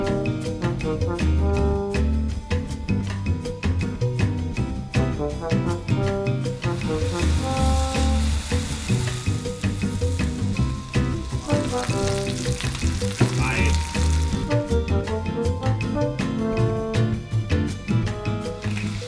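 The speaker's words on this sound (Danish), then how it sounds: "Det er lige før vi bare skal stege bøfferne af nu" Steaks for bøf bearnaise frying in a hot pan, a dense, continuous sizzle and crackle with shifting spits and pops, close and steady throughout, no voices.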